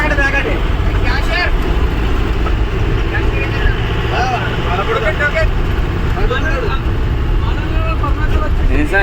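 Vehicles stuck in a traffic jam near Parnasala, close to Bhadrachalam, rumble and idle together in a constant low drone. People talk over the dense roadside noise.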